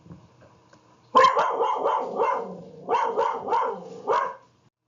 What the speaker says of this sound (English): I think I got Tinkerbell quiet down and stopped barking